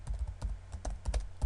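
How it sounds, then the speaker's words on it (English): Keys clack on a computer keyboard as a command is typed, a quick uneven run of close, crisp taps with brief pauses and no talking. "We type javac space"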